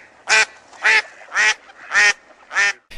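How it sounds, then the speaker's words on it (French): A duck quacks five times in an even rhythm, each call a loud, nasal, buzzy burst with short silences in between and no other sound around it. "un petit canard qui fait coin-coin"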